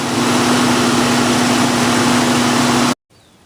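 The engine of a 1966 Ford Thunderbird, fitted with a new carburetor dashpot, idles fast at high RPM with a loud, steady drone close by, then cuts off abruptly near the end.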